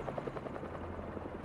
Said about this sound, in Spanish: aspas de helicóptero